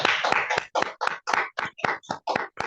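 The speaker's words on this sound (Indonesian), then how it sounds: "Mari kita belikan aplaus untuk Umi Kalsum Finansi." Audience applause at an Indonesian Islamic finance talk, a run of about a dozen sharp, fairly close clapping bursts with short gaps between them, no talking over it.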